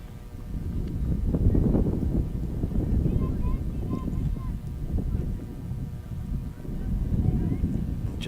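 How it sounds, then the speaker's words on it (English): Wind gusts buffet the microphone at an outdoor softball field at the Leavenworth County Fairgrounds, a steady low rumble that swells and eases throughout while a voice talks. "wind gusts still blowing through here"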